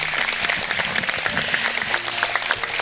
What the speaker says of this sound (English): So can we please give a round of applause for everything this girl does?